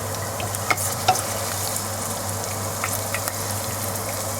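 Potatoes frying fast in hot oil for Kenyan pilau give a steady, close sizzle with a low hum underneath and a few small pops and stirring clicks.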